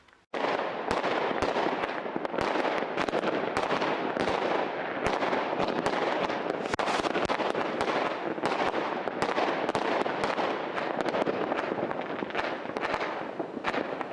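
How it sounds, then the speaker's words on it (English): New Year's Eve fireworks, a dense continuous barrage of crackling bursts and bangs going off without pause, loud and close, with no voices. "show you the fireworks at least"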